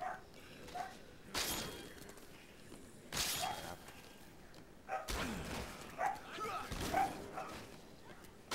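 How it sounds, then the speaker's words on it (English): A real dog barks a few times, faint and off to the side, during a Dead Rising 2 co-op game session, with sharp crashing game effects breaking in between. "Is that your dog?"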